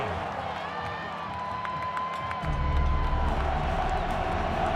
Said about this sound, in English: Crowd trying to whoop it up here in the horseshoe.